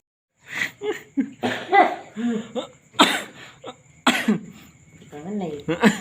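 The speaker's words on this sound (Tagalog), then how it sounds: "Ano yung ubo pa?" A person coughs several times in short, sharp bursts mixed with laughter, close and fairly loud, with voices chatting between the coughs.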